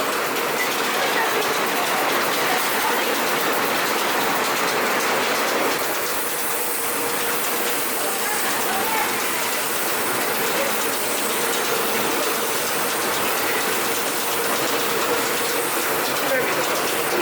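Bulgur mill machines clatter and rattle continuously in a loud, busy ratcheting din, with a hissing rush of bulgur grain pouring and faint voices under the machinery.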